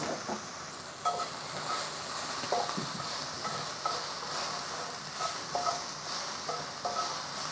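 Green peppers, ginger and other vegetables sauté in a hot pan for noodles, giving a steady close sizzling hiss broken by faint clicks and scrapes of stirring, with no talk.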